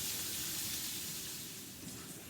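Bacon sizzles steadily in a hot pan, a close, continuous crackling hiss with no voices over it.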